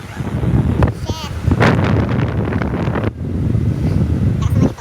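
Strong wind buffets a cable car in Taipei in the rain, a loud continuous roar and gusting rumble across the whole stretch, with excited voices talking over it.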